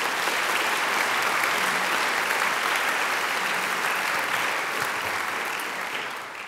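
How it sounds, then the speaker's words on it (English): A graduation ceremony crowd gives a sustained round of applause, a thick wash of clapping that holds steady and then begins to thin and fade near the end. "They deserve a great round of applause too"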